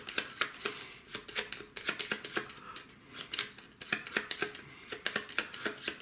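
Hands shuffle a deck of Flamme Rouge sprinter cards at a tabletop, a rapid series of close crisp riffling flutters in short bursts with brief pauses between, no talking.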